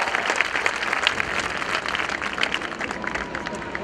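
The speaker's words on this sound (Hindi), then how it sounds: "तो हो जाए तालियां लाउडर।" An audience at a school annual day celebration claps in a steady, dense wash of applause with faint crowd murmur beneath, continuing evenly for a few seconds.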